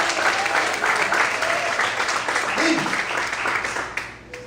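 A church congregation applauds during an evening service, a dense, sustained wash of many hands clapping that holds steady before tapering off at the end, with a voice faintly over it.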